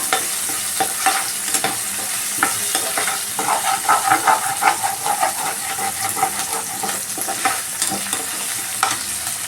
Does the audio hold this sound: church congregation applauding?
no